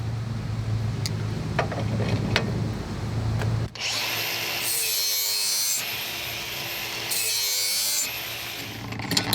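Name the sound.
lawn mower blade being sharpened with GSTP sharpener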